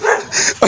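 A dog gives a couple of short, close barks and yips in quick succession during a brief, fairly loud burst.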